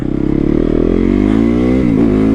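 Dual sport motorcycle engine revving up loud and close, pitch climbing steadily then dipping briefly near the end, with no talking.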